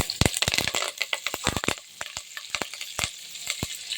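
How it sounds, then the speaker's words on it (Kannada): Green chillies and curry leaves frying in hot oil for pongal, loud irregular crackles and sharp pops bursting in quick clusters over a softer sizzle, close up and without speech. "ಸ್ವಲ್ಪ ಫ್ರೈ ಮಾಡಿ"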